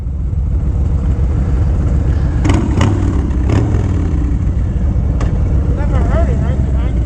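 Harley-Davidson CVO motorcycle exhaust rumbling steadily while riding through New York City, a constant loud low drone with a few brief clatters and voices talking over it.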